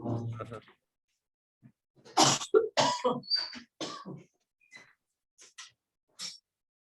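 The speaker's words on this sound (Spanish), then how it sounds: "disculpen que me dio tos" Several harsh, raspy coughs come in a cluster, close and fairly loud, followed by a few softer breathy sounds.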